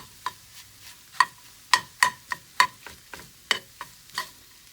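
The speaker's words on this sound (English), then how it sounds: "So then, back to the fire. Mix the quinoa in a little bit." Quinoa being stirred in a pan over a fire, heard as a series of sharp, irregular scraping clicks and taps, close and fairly loud, with quiet gaps between strokes and no talking.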